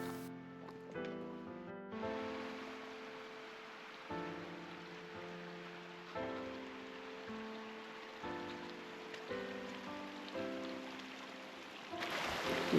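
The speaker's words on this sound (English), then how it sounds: "The sound of snow melt." Snowmelt water trickles steadily near a mountain lake, a constant wet patter and drip running throughout with no voices, fairly close and soft.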